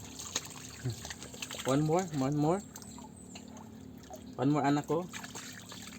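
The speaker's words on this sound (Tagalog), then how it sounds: "So magugas na ako ng kamay muna. Anak, buhos kamay." Water poured over hands for handwashing during a durian meal, a soft steady trickle beneath a voice talking and a child answering.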